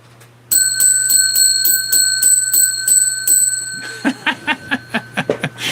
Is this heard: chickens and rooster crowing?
no